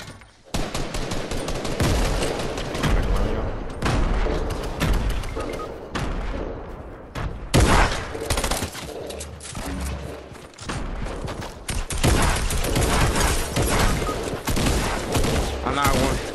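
Dense, continuous gunfire in Fortnite Battle Royale, rapid overlapping shots and bursts filling the whole stretch with only brief lulls, loud and close, with some voices talking underneath.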